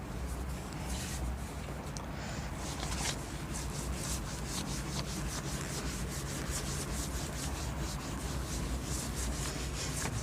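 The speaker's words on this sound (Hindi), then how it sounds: "चलो इसमें मैं रब कर देता हूँ पहले इसको।" A board being rubbed to erase written working in a maths lesson on number systems, a steady continuous scrubbing that runs close and moderately loud for about ten seconds with no talking.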